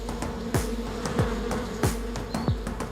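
Angry bees buzz steadily around a wild honeycomb high on a cliff, a dense continuous drone with sharp individual passes flicking close by at a regular rhythm, no voices.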